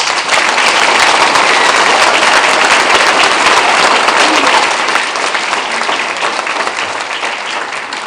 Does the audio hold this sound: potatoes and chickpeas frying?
no